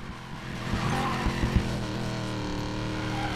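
A drift car in the racing game Need for Speed Payback slides sideways with a steady engine roar and tire squeal, loud and continuous with no talking.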